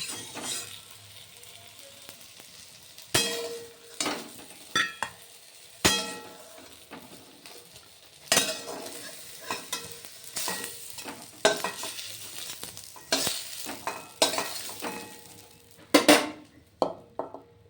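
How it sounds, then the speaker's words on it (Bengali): Brinjal pieces frying in oil in a pan give a quiet continuous sizzle, punctuated by repeated sharp clanks and scrapes of a spatula stirring against the metal, with no talking. "বেগুনগুলো কিন্তু ভাজা হয়ে গেছে অলরেডি"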